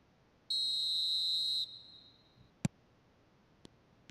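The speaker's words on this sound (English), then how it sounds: "There's the whistle." In the eFootball video game, a referee's whistle gives one long, steady, shrill blast at a stadium match, followed by a few faint sharp clicks in an otherwise quiet scene.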